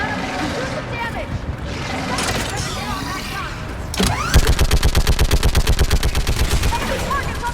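Mounted gun firing in Mass Effect, a loud rapid burst of regular shots that begins abruptly after earlier clatter and battle noise.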